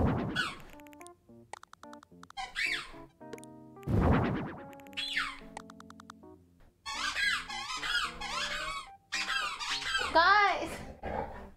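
Squeaky, high-pitched character voices from the Animal Crossing video game chatter in quick bursts, close and fairly loud, with brief gaps of game music between them.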